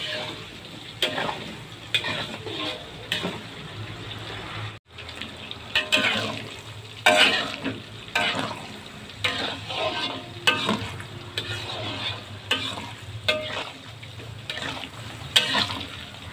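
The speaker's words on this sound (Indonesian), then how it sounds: "Nah, ini minyaknya sudah panas, langsung kita masukkan tahunya." Tofu frying in hot cooking oil in a home kitchen, a steady crackling sizzle with intermittent louder pops and spatters throughout.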